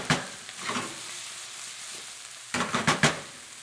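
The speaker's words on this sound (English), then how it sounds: "I'm going to saute this mixture again with the capers for about" A puttanesca mixture with capers sizzles in a pan, with short bursts of stirring scrapes near the start and a cluster of louder scrapes near the end over a quieter continuous fry.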